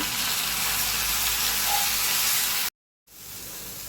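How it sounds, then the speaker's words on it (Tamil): Onion, garlic and tomato sautéing in a pan as part of a tamarind curry, giving a steady broadband sizzle that runs close and loud for most of the stretch, then cuts out briefly before resuming more softly. "வெங்காயம் பூண்டு வதக்கியாச்சுங்க ஒரு சின்னதாக தக்காளி கட் பண்ணி வச்சுக்கிறேன் அதையும் வதக்கிக்கலாங்க"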